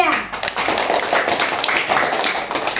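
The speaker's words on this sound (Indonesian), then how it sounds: "berikan aplaus untuk kelompok 3" Scattered clapping and tapping from a primary school class applauding a student group, close and fairly loud, with children's voices mixed in over the brief burst.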